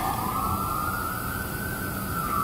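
An emergency vehicle siren wails outdoors at a distance, its tone sliding slowly upward over a constant wash of wind noise.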